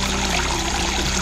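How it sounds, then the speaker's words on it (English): Trickling water is slowed by a hand, a steady, dense rush of flowing water filling the whole moment without pause. "Maybe I could stop the water with my hand."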